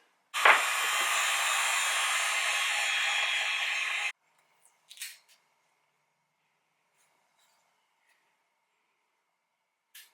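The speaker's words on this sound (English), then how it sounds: "I'm gonna grab heat gun and I'm gonna remove the sticker" A heat gun blowing on a sticker on a Milwaukee impact wrench gives a loud steady rush for about four seconds, then cuts off, followed by a few faint brief clicks and handling noises.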